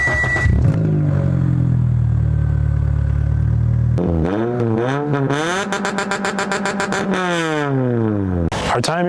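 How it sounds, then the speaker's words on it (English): A loud 2005 Toyota Corolla exhaust idles with a deep rumble, then is revved repeatedly in rapid, rising and falling bursts, each blip stacked with bright harmonics, up close and alone. "we're gonna get some exhaust clips for you"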